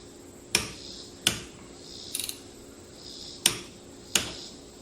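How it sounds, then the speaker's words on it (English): A torque wrench on the rear differential drain plug of a 2017 Subaru Forester gives four sharp, crisp clicks at uneven intervals, plus one brief rattling ratchet sound, close up against a quiet background with no talk. "I'm going to go ahead and torque this drain plug down to about 37 foot-pounds of torque"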